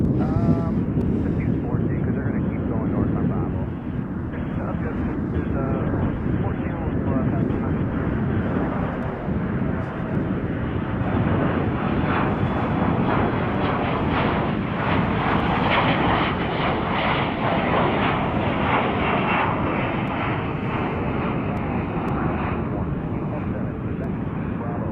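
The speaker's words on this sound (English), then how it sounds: "Here it is, United Flight 1196" A United Airlines jet at Chicago O'Hare, its engines producing a steady broad roar that holds loud for the whole stretch, with wind buffeting the microphone and voices talking over it.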